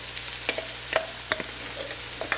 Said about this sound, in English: now I'm going to add in some garlic